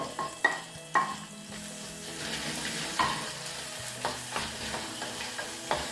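Crushed garlic frying with onions in a pan for a buttermilk curry, a steady close sizzle broken by a few sharp spoon clicks and scraping stirs, with no talk.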